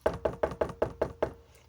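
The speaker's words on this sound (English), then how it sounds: "And the wolf knocked on Granny's door with a thud." Seven firm knocks on a wooden door at a steady, quick pace, close and loud, then silence.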